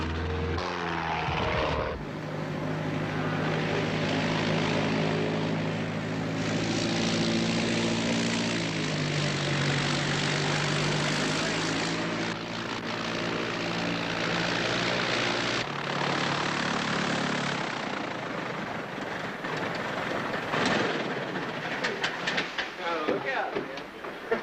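A propeller airplane comes in to land with full flaps and carb heat on, its engine drone loud and steady, the pitch sagging as power eases, and a voice speaks briefly over it.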